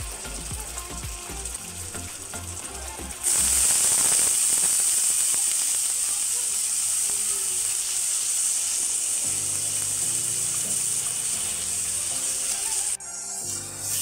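Ground masala paste hitting hot oil with spices while cooking a dry chicken dish, bursting into a loud, steady hiss at about three seconds that holds close and continuous to the end.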